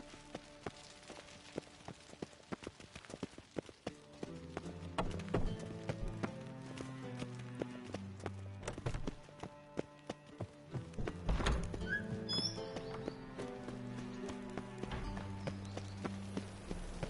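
Horse hooves from The Witcher 3 on horseback, a steady clip-clop gallop that starts soft and grows louder and heavier, with thudding beats over game music and ambience.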